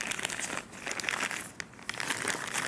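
A plastic piping bag being folded down close up gives a continuous crinkling, crackly rustle with small irregular bursts, and no talking over it.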